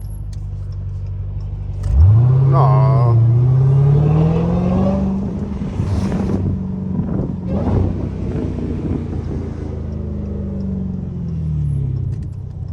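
A Dodge Hellcat's engine revs hard and loud while the car slides through corners, rising sharply into a sustained roar that stays high before easing slightly; a voice speaks briefly.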